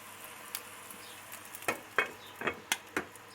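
Quiet sizzling of peppers frying in a pan with a few sharp crackles and pops toward the end, close by with no talking.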